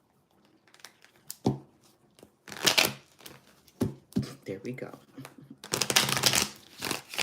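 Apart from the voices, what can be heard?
shuffling a tarot card deck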